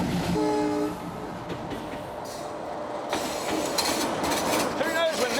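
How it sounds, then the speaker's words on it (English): An old train in India rolls past close by, its rumbling carriages and wheel clatter filling the scene while the horn sounds in short tonal blasts near the start and again at the end. "Who knows when this was made, this train?"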